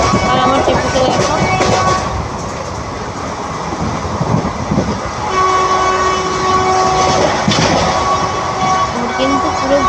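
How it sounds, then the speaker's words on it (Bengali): Steady rumble and clatter of a moving train heard from inside a carriage, with a horn sounding partway through; a voice talks over the noise. "আমি ভয়েসটা ট্রেনের মধ্যে বসে দিচ্ছি বলে হয়তো তোমরা যে ট্রেনের সাউন্ডটা পাবে"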